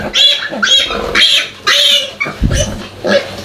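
A litter of piglets squeal loudly and shrilly while jostling to nurse from a sow on a pig farm, with repeated close bursts of high-pitched squeals and grunts in quick succession.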